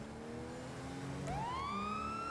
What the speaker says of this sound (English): Gonna hold the siren down.